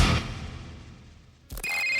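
A telephone rings for a podcast call-in line: a loud opening ring decays away, then a brighter electronic ringtone starts abruptly and holds steady to the end.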